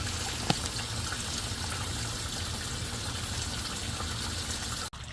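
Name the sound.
water gushing out of a sump pump pop-up outlet by the curb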